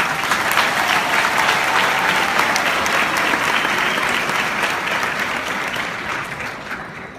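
A graduation audience applauds loudly and steadily, a dense wash of clapping from a large crowd that holds strong for several seconds before gradually fading.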